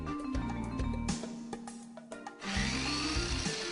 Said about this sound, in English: Cutting with a steel cutting saw blade allows high-speed cutting not possible with a cut-off wheel.